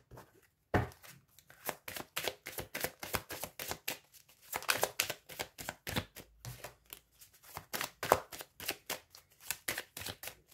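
Tarot cards are shuffled close up for a reading, making quick, rhythmic riffling slaps that repeat steadily through a quiet room.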